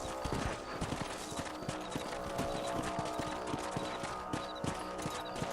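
Rapid rhythmic clip-clop of horse hooves galloping steadily in Red Dead Redemption, close and clear, with a brief whinny-like tone at the start.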